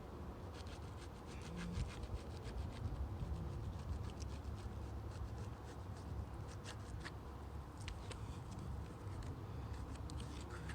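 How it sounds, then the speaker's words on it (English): A squeegee presses and rubs a vinyl decal down over a surface and into a crack, giving steady, close scraping strokes with brief sharp squeaks throughout. "Squeegee it down really, really good."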